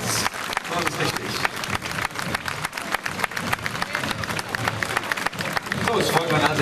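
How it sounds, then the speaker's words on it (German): Spectators at the 2008 Schützenfest marksmen's festival parade in Ratingen clap steadily and densely, strong applause swelling over the whole stretch while voices talk through it. "ihr Applaus verstärkt sich jetzt"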